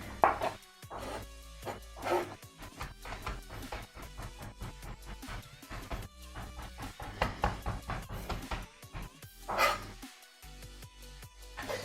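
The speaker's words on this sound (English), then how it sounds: "So I'm just chopping this right down." Rapid knife chops through rosemary on a cutting board, a quick irregular tapping rhythm that comes in bursts, close and fairly quiet.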